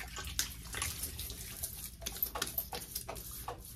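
Water running from a tap and splashing as a face is wetted before shaving, a close, continuous patter with irregular splashes from hands.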